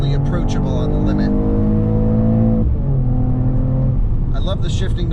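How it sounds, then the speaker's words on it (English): A 2021 Mercedes E53 AMG Cabriolet engine revs hard against its soft rev limiter and snaps through upshifts, heard from inside on Los Angeles hill roads, with a loud, steady harmonic drone, a brief dip at each shift and a voice talking over it. "I love the shifting noise when you bang the rev limiter real quick"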